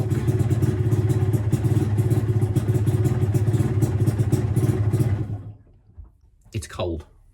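A Yamaha DT125LC two-stroke motorcycle engine starting from cold with no choke, running loud and rough with a rattling drone for about five seconds before dying, followed by a brief voice.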